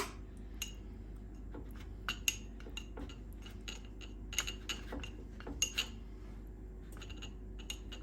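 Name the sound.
spoon stirring chocolate mug cake batter in a ramekin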